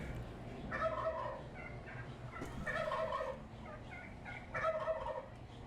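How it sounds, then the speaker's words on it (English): A push-button display at a Houston Zoo exhibit plays a recorded owl hoot with heavy reverberation. Three warbling calls repeat at even intervals, fairly loud against a faint room hum. "The most reverby owl hoot you'll ever hear."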